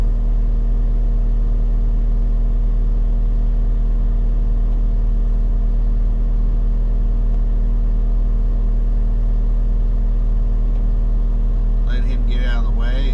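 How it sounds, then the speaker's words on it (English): A truck engine idles steadily at close range, a loud continuous low droning hum with a constant pitch, joined near the end by a brief higher rattling burst. "That's a nice, pretty nice truck there."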